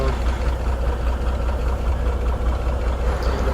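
A truck engine idling with suspected bad injectors and white exhaust smoke, a steady close low-pitched rumble with a slight uneven knock running throughout.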